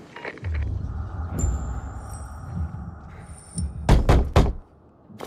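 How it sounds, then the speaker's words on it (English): A door is knocked in the video game Dying Light 2: three quick, sharp raps near the end, after a stretch of quieter ambient background. "Knock on some doors."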